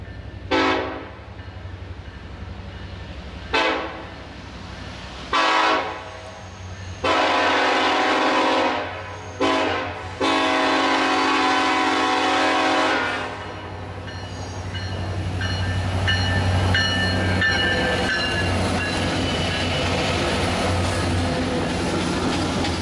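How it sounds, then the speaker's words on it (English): A CSX diesel freight train led by EMD SD70AH (SD70ACe) locomotives sounds its horn in several loud blasts, some short and some long, then rumbles steadily past at close range. "Here's a video of CSX Q541, a train that runs through my own hometown"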